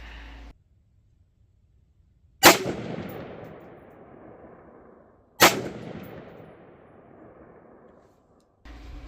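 Two sharp rifle shots fired at a 200-yard target through an LPVO scope, a few seconds apart, each a loud crack followed by a long rolling echo that fades out.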